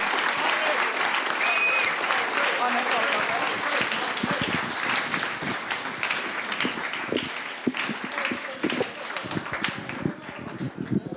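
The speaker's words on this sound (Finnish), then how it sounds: "aplodit Harrille!" Sustained applause from the crowd at the Finnish Game Awards 2014 ceremony, dense clapping that thins slightly toward the end into more distinct individual claps.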